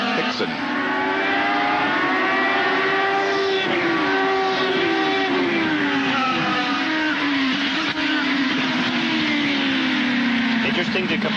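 IndyCar race cars at the Honda Indy 200, a loud continuous engine drone whose pitch slides and falls as cars pass, with a voice talking over it.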